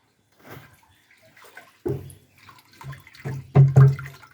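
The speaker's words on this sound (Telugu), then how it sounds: "ఇలా RPS నీటిలో పోసి బాగా కలియబెట్టాలి." Water sloshes and swirls in uneven bursts as RPS76 seed treatment for paddy is stirred into it by hand in a container, growing louder toward the end.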